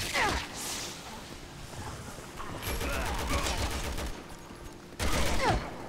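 Machine gun and gunfire from the Resident Evil 6 video game crackle in rapid bursts, with a long sustained burst in the middle and sharp hits and whooshes around it, loud and punchy.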